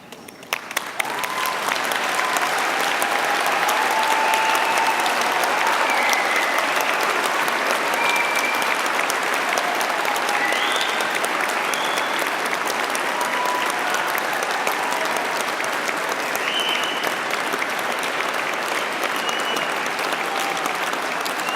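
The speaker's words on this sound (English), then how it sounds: "turn and applaud the slightly older and more careworn looking people at the back" Sustained applause from a large audience at a university graduation ceremony, a dense, steady roar of clapping that swells in quickly and holds loud and even throughout, with no talking over it.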